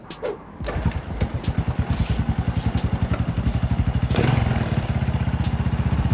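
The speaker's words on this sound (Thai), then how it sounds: "สตาร์ทติดนะครับเพื่อนๆสตาร์ททีเดียวติดเลยนะครับ แล้วก็เร่งได้ เร่งได้ระดับหนึ่งนะครับ" A Honda Wave 110i motorcycle with a faulty fuel injector fires up on the first try and settles into a close, loud, rapid chugging idle, with a brief throttle blip midway before the steady putter resumes.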